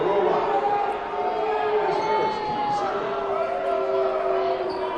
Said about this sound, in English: You hear the boos raining down from the crowd here at Stone Gymnasium